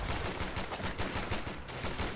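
Jaeger infantry fire their rifles in the real-time strategy game Company of Heroes 2, a rapid, steady rattle of gunshots packed closely together throughout a short, busy battle moment.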